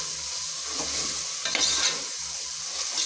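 Chilli, garam masala and herbs sizzle and fry in a pan while being stirred, a close, steady crackle with scraping stirs rising now and then.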